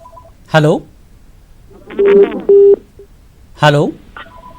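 Telephone line connecting a caller to a Hindi-Urdu TV legal call-in show: a short burst of dialing tones and line beeps between two brief spoken greetings, with a faint dial-tone hum at the start and end.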